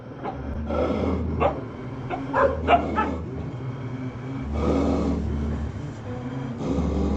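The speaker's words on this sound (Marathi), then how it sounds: "कुत्र्यांची भांडणं" Several wild dogs fight near a tent in a Nepal forest at night, barking, yipping and snarling in bursts at moderate distance, with a steady low engine hum underneath.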